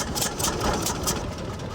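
A 1934 John Deere Model D hand-start two-cylinder tractor engine runs steadily nearby, a loud, rough, continuous throb heard alone for a couple of seconds.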